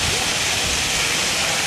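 Water pours from a pipe in a residential housing society like a small waterfall, a steady, dense rushing splash that stays close and continuous throughout.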